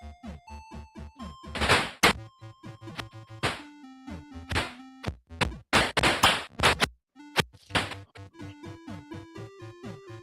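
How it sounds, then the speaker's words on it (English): Enemies being defeated in the Atari ST version of Altered Beast: bursts of noisy crashes and smashes scattered among chiptune-like tonal blips and notes, loud and busy throughout. "That was the sound of defeating the enemies."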